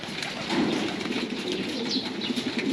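Racing pigeons coo and rustle with bursts of wing flapping as they enter a loft trap, a close, continuous low murmur of birds.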